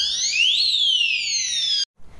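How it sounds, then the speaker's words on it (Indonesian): Electronic alarm buzzer in a school science experiment gives a loud, steady high-pitched tone that sweeps upward and back down, then cuts off abruptly, leaving near silence. "Apabila terdapat tegangan listrik yang diberikan pada alarm, maka secara otomatis gerakannya akan diubah menjadi suara bunyi yang dapat didengar oleh manusia."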